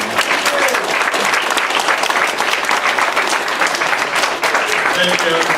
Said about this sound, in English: give a big round of applause for all the people you see for bringing this